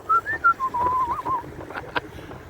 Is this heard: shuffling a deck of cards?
no